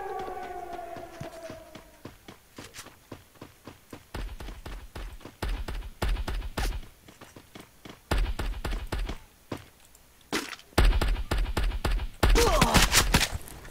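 Rapid gunfire crackles in bursts from the video game Free Fire, growing louder and denser toward the end, with a fading siren-like tone at the start.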